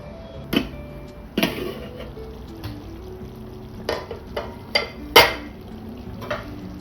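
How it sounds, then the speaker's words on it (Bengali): Mutton curry with potatoes, Bengali style, being stirred in a pot: irregular clinks and scrapes of a spoon against the metal ring out over a low, constant sizzle, with a few sharper knocks. "এরপর ঢাকাটা খুলে আরেকবার নেড়ে দেবো"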